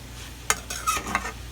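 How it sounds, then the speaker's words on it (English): Macaroni and cheese ingredients stirred together for Haitian macaroni au gratin, a brief burst of a few wet clicks and scraping spoon strokes against the dish over a soft background hum. "you just want to mix everything in there."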